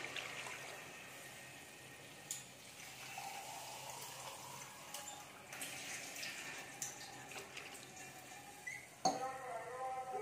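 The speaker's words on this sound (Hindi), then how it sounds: "एक गिलास पानी ऐड करेंगे।" A glass of water pours steadily into a pot of cooking meat with a soft, continuous gushing splash, a few clinks along the way and a sharper knock near the end.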